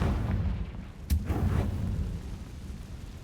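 Confringo fire spell exploding in Hogwarts Legacy, a sharp boom at about one second that rolls off into a rumbling blast over continuous low background noise.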